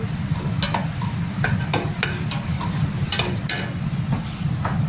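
Spiced butter sizzles in a pan of frying onions, with a steady close crackle and repeated scraping taps of a spoon as the mixture is stirred.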